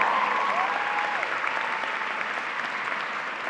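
A graduation audience at Henry W. Grady High School's 2018 ceremony claps in sustained, even applause that fills the hall and gradually eases, with a brief whistle near the start.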